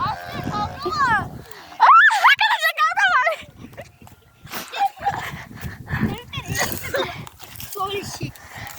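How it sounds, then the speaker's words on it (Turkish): Dogs fighting at an outing on Çıtlık Hill, with sharp growls, barks and yelps clustered near the start and scattered through the rest, mixed with people shouting and talking close by. "köpekleri rahat bırakırsan kavga etmezler"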